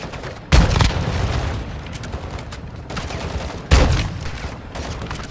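Gunfire in the video game Call of Duty DMZ: two loud, sharp shots about three seconds apart, each trailing into a rumbling, continuous battle din.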